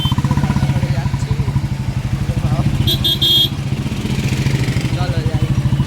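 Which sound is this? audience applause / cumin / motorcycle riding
motorcycle riding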